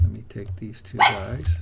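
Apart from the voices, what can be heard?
dog barking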